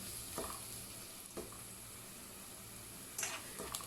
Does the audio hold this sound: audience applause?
no